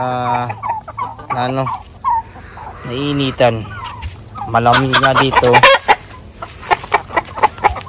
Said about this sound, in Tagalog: Ito na lahat yung ating mga manok.